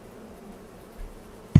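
A swarm of bees in Farming Simulator 22 gives off a faint, steady buzz, ending with a sudden louder thump.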